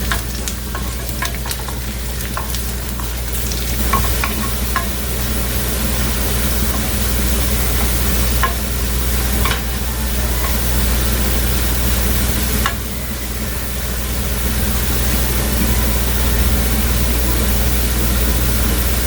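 Chopped garlic frying in oil, a loud steady sizzle and crackle running unbroken throughout, with occasional stirring scrapes over a constant low hum.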